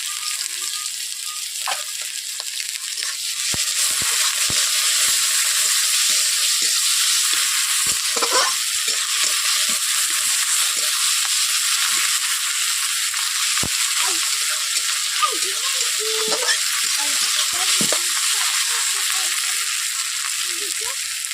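Green chilli, tomato, chopped onion and ginger-garlic paste fry together in hot oil for a pabda fish curry, giving a steady loud sizzle throughout with occasional stirring clicks and scrapes.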